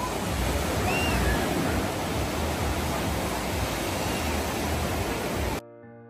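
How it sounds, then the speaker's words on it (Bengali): Sea waves roll onto the beach at Whitby, England, making a steady full wash of surf that continues without a break and then cuts off abruptly near the end. "দেখুন, হাঁটতে হাঁটতে আমরা বিচের ধারে পৌঁছে গেছি।"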